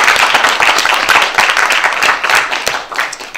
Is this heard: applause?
yes